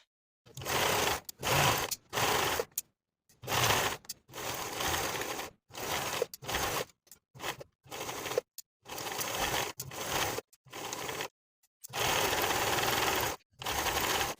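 A sewing machine runs in repeated short bursts, stitching a dress neckline seam with a half-inch allowance, each whirring run broken by brief pauses as the fabric is guided.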